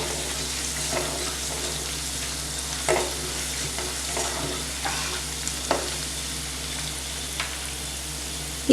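A steady oily sizzle of green chillies frying in a pan, with intermittent scrapes and knocks of a spoon stirring, close and continuous.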